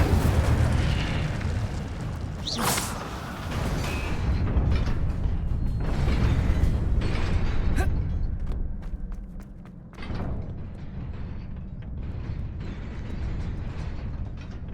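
Hogwarts Legacy's Incendio fire spell roars up as a loud, sustained burst of flame with crackling and mechanical creaks. Sharp flares erupt a few times before it fades into a dip and then a steady rumble.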